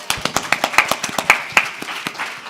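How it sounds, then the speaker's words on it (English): Applause for a panelist at a National Action Network convention: a small, sparse group of distinct claps in an uneven rhythm, each hand strike clearly separated and fairly close. "Please give him a round of applause."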